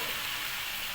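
Chicken and potato pieces fry with spices in hot oil, producing a dense, continuous, close-up sizzle that stays loud and even throughout, with no talking.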